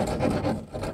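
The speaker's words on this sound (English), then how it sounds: "They're sawing the glass right now." A glass master hand saw cuts through a car window during a fire department extrication demonstration, a dense rasping, scraping grind in quick strokes, close and loud without speech.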